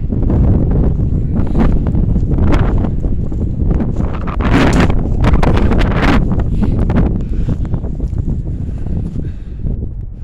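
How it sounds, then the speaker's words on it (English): Strong wind gusting across an outdoor cemetery, a steady loud roar buffeting the microphone throughout with swelling gusts, fading slightly toward the end. "Woo, that wind."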